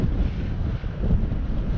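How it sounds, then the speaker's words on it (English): Loud, blustery wind in Scotland buffeting the microphone, a constant low rumble with brief dips, nothing else audible. "Oh, it's windy."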